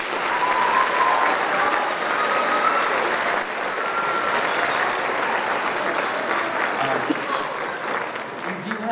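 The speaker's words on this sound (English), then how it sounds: "So let's give them a nice round of applause." An audience at a school band concert applauds in a steady, full round of clapping that lasts the whole stretch, with faint voices mixed in beneath.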